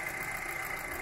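A Volkswagen Passat turbo FSI engine runs with a faulty electrical connector causing it to misfire, a steady close mechanical drone with a bright whine, and no voices.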